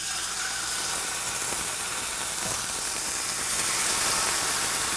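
Seasoned flat iron steaks sizzle in hot olive oil in a sauté pan, giving a steady soft hiss that runs throughout and swells slightly toward the end.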